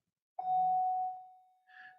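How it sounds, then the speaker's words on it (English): An electronic bell chime in a school building sounds one sustained tone that slowly fades, followed by a brighter second ding near the end, heard fairly clearly with no talking. "if you hear in my background, that's the bell"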